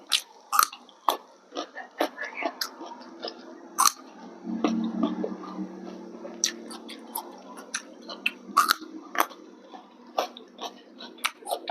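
Close-up biting and chewing of Isan sausage, with crisp bites and moist, squishy chewing repeating in an uneven rhythm, mixed with soft mouth clicks and a voice now and then.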